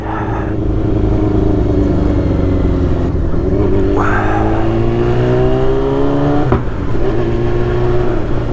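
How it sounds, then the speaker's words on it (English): A motorbike on the Isle of Man coastal road during TT week, its engine droning loudly and close throughout as it pulls away and holds speed, with steady wind and road roar. "heading out on the bike for the day"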